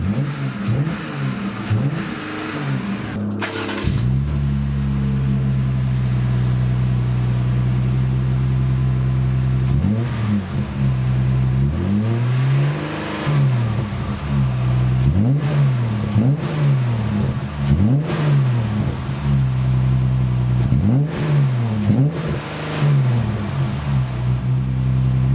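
Jeep Gladiator fitted with a Magnaflow Rock Crawler exhaust, recorded from outside, settles into a steady idle and then climbs through several throaty revs with a rising and falling engine note, loud and close, with no talking.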